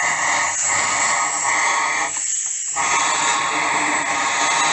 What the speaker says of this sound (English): we're just going to blow some air through there